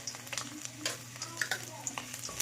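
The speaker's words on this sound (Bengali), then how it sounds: "তেলটা গরম হয়ে গেছে, আমি দিয়ে দেবো একটুখানি কয়েক কোয়া রসুন, দিয়ে দেবো একটু আদা কুচো" Garlic cloves and chopped ginger frying in hot oil before cooking fish curry, a steady close sizzle with scattered crackles and scraping stirs, no talk over it.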